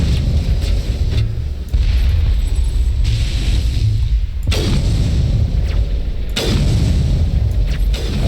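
Gunfire from Mass Effect: Legendary Edition on Noveria at Peak 15: loud, close booming shots with heavy low rumble, landing in several separate bursts over a constant roar of battle.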